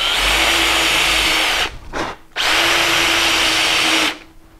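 A power drill bores a hole to a controlled depth in a piece of wood, whining loudly and close in two sustained runs separated by a brief stop.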